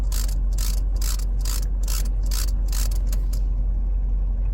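A Mercedes-Benz ambient light control wheel turned by hand gives a run of about ten crisp, evenly spaced clicks over a steady low cabin hum, close to the mic, then stops.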